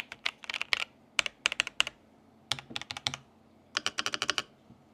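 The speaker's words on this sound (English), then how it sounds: "This is the Royal Clutch S98 mechanical keyboard." Typing on a Royal Clutch S98 mechanical keyboard with hot-swappable keys, close and clear: bursts of quick crisp key clacks separated by short pauses, quiet and alone without any talking.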